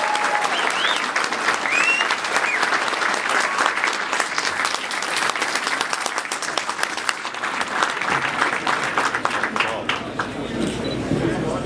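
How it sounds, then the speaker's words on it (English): Applause fills a room at the Jewish Museum in Manhattan as the audience welcomes the Prime Minister of Albania, a loud, sustained wash of many hands with faint crowd murmur beneath. "let's welcome the Prime Minister of Albania, Edi Rama, with a round of applause"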